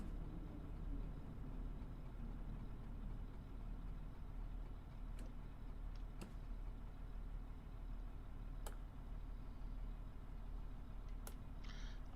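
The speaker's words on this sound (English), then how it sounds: "no, the engine's running." A train engine idles on the Liberec to Stará Paka line in Train Sim World 6, a low, even, continuous rumble with a few sharp clicks scattered over it and no talking.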